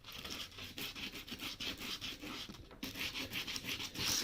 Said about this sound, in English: Now, I don't want to sand this so hard that I rip the lacquer off the top